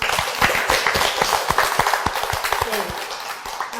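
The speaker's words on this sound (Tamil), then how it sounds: "நல்ல கைத்தட்டு அவனுக்கு" Schoolchildren in a classroom clapping for a classmate who answered a maths question, sharp uneven handclaps from a small group, close and brisk, with murmuring voices beneath.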